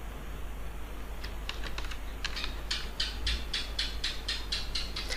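Rapid, steady tapping on a computer keyboard, a run of light, close keystrokes in an even rhythm over quiet background hiss.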